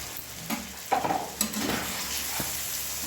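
Egg malaikari masala cooking in a pan with sugar and salt just added, giving a steady low sizzle under a few soft scraping stirs and light clinks of a spoon, with no talking.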